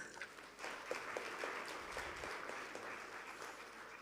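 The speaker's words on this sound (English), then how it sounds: "please do welcome him with warm applause" Audience applause at a national management convention welcoming a speaker, steady dense clapping filling the whole stretch at moderate level with no voices over it.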